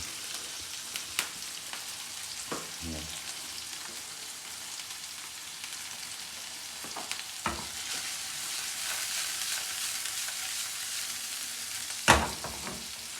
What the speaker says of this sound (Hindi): अब प्याज को डाल देंगे इसके अंदर